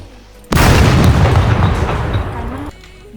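A single loud explosion in the online survival game SCUM erupts suddenly, a deep broadband blast whose roar holds and rumbles for about two seconds before cutting off, with quieter game ambience on either side.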